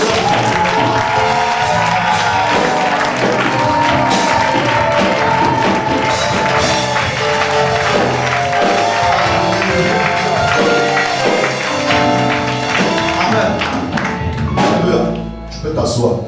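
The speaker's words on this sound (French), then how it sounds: "j'aimerais tous ensemble que nous fassions trembler les 4 murs par nos acclamations" A church congregation at a special worship service erupts in loud, sustained applause and cheering over music, a thick wall of crowd noise that barely dips before trailing slightly at the end.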